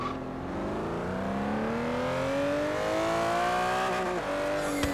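593-horsepower Aston Martin Vantage GT12 road racer with a V12 engine in Forza Horizon 3, revving loud and steady as the engine pitch climbs smoothly through the gears, with no talking.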